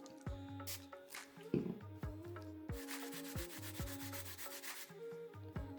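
Prep and scrub being rubbed over a freshly glued acrylic nail tip, a close, scratchy rubbing in quick bursts with small taps, and background music with tonal hum underneath.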